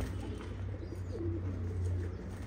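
Zubayri pigeons coo softly in low, throaty tones against a quiet background hum, one or two calls standing out from the rest.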